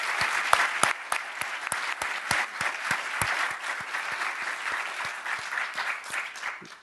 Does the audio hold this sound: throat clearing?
no